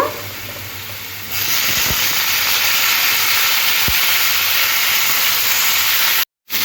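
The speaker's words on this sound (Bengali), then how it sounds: "এই যুক্তি ফুলটা এবারে আলুর সাথে লাল লাল করে ভাজতে হবে" Potatoes and yukti flowers hiss loudly as they fry in hot oil, a steady, dense sizzle that jumps up sharply after the first second and carries on almost unbroken, with a brief cutout near the end.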